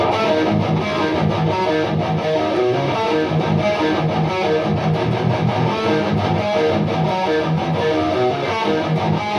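Distorted electric guitar plays the verse riff of a thrash metal song, a dense, loud, continuous chugging pattern with steady driving rhythm and no talking.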